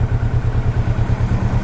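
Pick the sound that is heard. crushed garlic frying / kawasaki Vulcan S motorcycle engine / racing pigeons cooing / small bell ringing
kawasaki Vulcan S motorcycle engine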